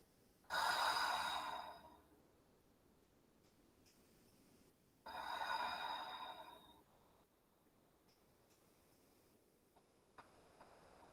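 Two long, airy breaths, each lasting over a second, taken during a yoga child's pose with the forehead resting on the mat. They are separated by several seconds of near silence.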